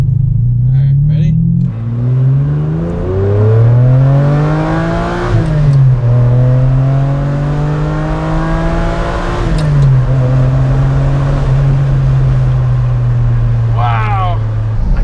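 A Ferrari 456M GT Scaglietti V12 engine revs hard, its pitch climbing steadily through the gears with brief dips at each shift, loud and close throughout.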